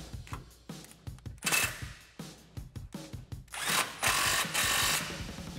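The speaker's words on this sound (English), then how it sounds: "From there, tighten down your clamp." An exhaust clamp on a 1999-2004 Mustang GT cat-back system is tightened with a power tool, which whirs and rattles in short, uneven bursts that come close together near the end, with no speech.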